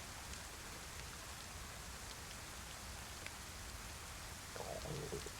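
Steady rain falls in the DayZ video game, a continuous even hiss of drops that stays at a constant moderate level throughout, with a faint low rumble near the end.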